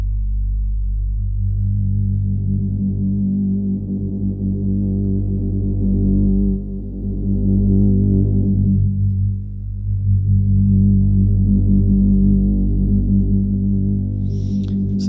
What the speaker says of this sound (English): Now I can control the frequency of this filter.